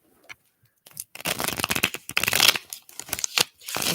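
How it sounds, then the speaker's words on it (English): Tarot cards riffle and shuffle in quick bursts of papery flicking and rustling, fairly close, with short pauses between shuffles and no talking. "Let's get some good shuffles going here."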